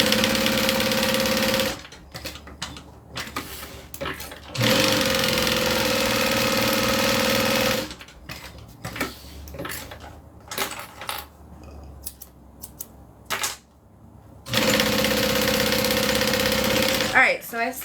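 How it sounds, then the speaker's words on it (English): A sewing machine stitches bag pieces together in three steady, humming runs, with quieter handling noises and fabric shuffling in the pauses between them. "Alright, now I'm just going to stitch these together."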